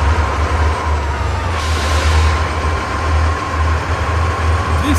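A Kamaz 5410 truck engine in Euro Truck Simulator 2 drones steadily with a deep low rumble and a faint higher whine, continuous and fairly loud, with no voices.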